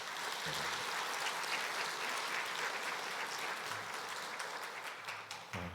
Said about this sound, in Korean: 우리 찬양대에 위해서 축복의 박수 한번 하겠습니다